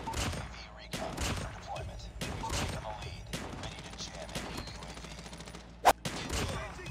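Shotgun fire in Call of Duty Mobile, a string of loud separate blasts spaced about a second apart with spoken reactions between them.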